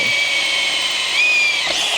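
A power drill bores through a vehicle frame while a hydraulic performance kit is installed on a 2025 R, likely a Can-Am Ryker. The motor whines steadily and loudly for about two seconds, with a shift in pitch near the end as the bit punches through.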